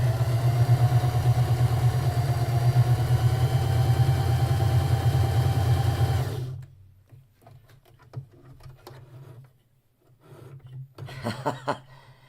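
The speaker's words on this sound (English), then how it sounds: "make sure my fabric's even at the end, and sew right on" A sewing machine stitches a quilt patch block in one steady, close motor whir for about six seconds, then cuts off, leaving faint handling rustles and light taps.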